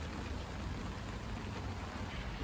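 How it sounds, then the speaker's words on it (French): Rain falls steadily at a rainy campsite, a continuous soft hiss and patter with a low rumbling undertone, faint and unbroken throughout. "il pleut"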